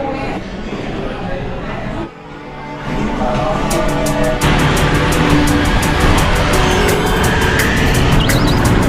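Busy street traffic in Ho Chi Minh City, motorcycles and cars roaring past close by in a loud, continuous wash of engine noise with rising and falling passes, and a rhythmic clicking in the second half.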